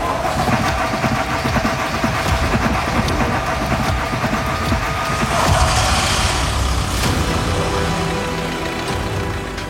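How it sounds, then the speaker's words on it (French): A four-cylinder Audi engine from a scrapyard car runs steadily and loud throughout, a continuous mid-pitched mechanical drone with a brief surge in the middle, no voices heard. "et la voiture démarre"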